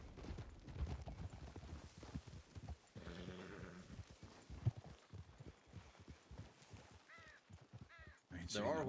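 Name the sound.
horses in a video game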